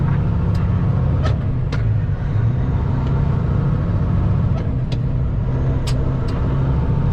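A Kenworth T800 truck drives by with a steady, loud, low engine rumble and road roar, broken by a few faint high clicks.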